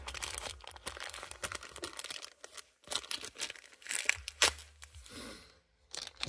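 Crinkling plastic wrapping being torn open around a new OEM oil pickup gasket for a 2011 Saab 9-5 TiD, close-up with bursts of crackling and ripping, then a brief pause and a final rustle.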